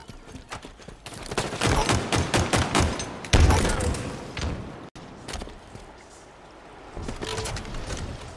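Gunfire in a team-based shooter video game: rapid bursts of shots with sharp impacts over a few seconds, busy game sound around them, ending on quieter ambient game noise.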